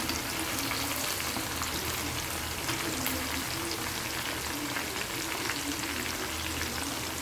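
Chicken pieces frying in a pan, a dense, steady crackling sizzle with no pauses, the bubbling hiss holding at even strength throughout at close range.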